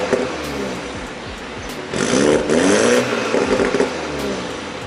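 A 2019 BMW Z4 sDrive20i (G29) in sport mode, its exhaust burbling and rumbling on a downshift, swelling louder for about a second and a half midway before settling back to a steady engine drone.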